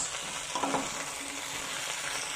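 Leek and potato sizzle and get stirred in a small, overfull saucepan, giving a steady, close frying hiss with a few soft scraping knocks and no talking.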